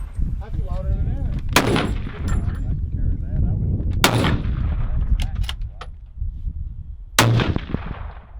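Three sharp, loud rifle gunshots ring out outdoors in New Mexico at spaced intervals, each with a short echoing tail, over a steady background rumble.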